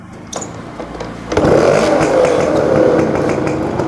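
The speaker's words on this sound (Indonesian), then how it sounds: "kalau untuk motor ini mesinnya nggak susah nyala" A 1988 Suzuki RC 100 two-stroke motorcycle engine catches after a second of light clatter, then settles into a steady, close idle that holds to the end.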